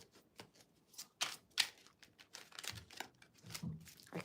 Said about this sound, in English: I kind of really like the sound of the shuffle of these cards.